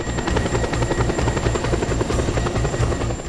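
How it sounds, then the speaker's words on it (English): A helicopter in the video game Just Cause 2 drones steadily with a rapid, loud rotor chop, close and continuous throughout, with no talking over it. "Oh, that's just a normal helicopter."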